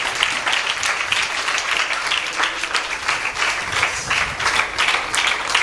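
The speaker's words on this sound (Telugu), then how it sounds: "కొంచెం చప్పట్లు కొట్టచ్చు కదా." An audience at a church gathering for a pastor applauds with steady, dense clapping that continues without a break.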